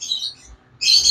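Pet birds kept for sale, including mynas, parrots and cockatiels, give two short bursts of high chirping separated by a brief quiet gap.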